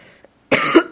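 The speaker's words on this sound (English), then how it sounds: "Oh, my cough." A single short, harsh cough from someone with a cold, close and loud, after a near-silent moment.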